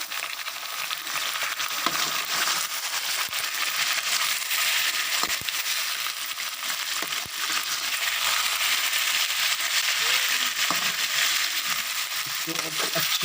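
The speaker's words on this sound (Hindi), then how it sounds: "तो अब अच्छी तरह फ्राई कर लेंगे। अच्छी तरह फ्राई करके देंगे।" Chicken pieces frying with browned onions in a pan, a steady loud sizzle with stirring and scraping throughout, no talk.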